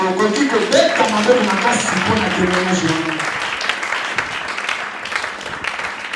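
A church congregation at a Thursday miracle service breaks into loud applause as a voice speaks over the first half, and the dense clapping carries on after the talking fades.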